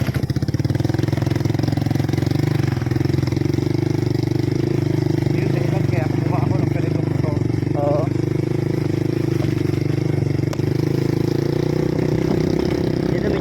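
Motorcycle engine laboring steadily uphill on a rough mountain road to historic guerrilla sites near Mt. Labo, a loud, continuous drone close to the microphone throughout, with faint voices briefly audible underneath.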